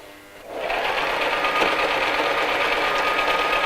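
A sewing machine starts up and runs steadily, stitching straight across the top seam of a fabric tote bag with a loud, even mechanical whir close by.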